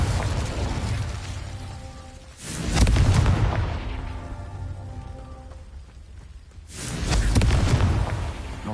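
A Confringo blast spell cast in Hogwarts Legacy, giving two heavy booming explosions a few seconds apart, each a sudden loud burst that rumbles and slowly fades, with quieter game ambience between.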